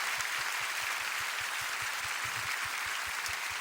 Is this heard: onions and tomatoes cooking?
no